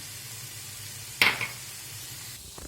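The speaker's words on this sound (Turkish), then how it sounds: "Soğanlarım birazcık kavruldu. Şimdi üzerine biberlerimi ekliyorum." Onions sautéing in a pan as peppers are added, a low steady sizzle with one brief, sharp clatter of stirring or ingredients dropping in, heard close and without talking.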